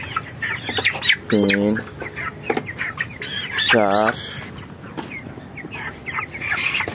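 Twenty-one-day-old broiler chickens give two loud, drawn-out squawks and scattered clucks while being lifted and handled, as someone talks close by.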